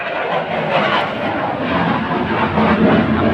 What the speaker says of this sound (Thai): เสียงเครื่องบินมาอีก